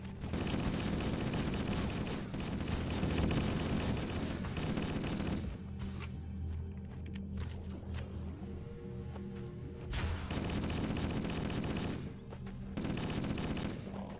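Halo video game gunfire, loud sustained automatic bursts that break off for a few seconds of quieter rumbling and clatter, then resume in heavy volleys toward the end.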